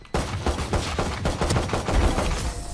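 Rapid gunfire in the tactical shooter Valorant during a competitive match, a dense run of sharp shots filling the clip with little pause, close and loud, with no talk over it.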